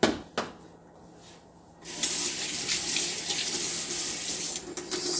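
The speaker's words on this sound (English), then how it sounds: "So I had to go and rinse the knife too" Tap water runs steadily into a sink as a kitchen knife is rinsed, a faint start followed by a louder continuous gush of water.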